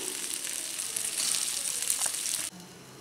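Okra stir-fry sizzles steadily in a pan, a dense, even frying hiss that swells slightly midway and then drops suddenly to a quieter hush, as if covered with a lid.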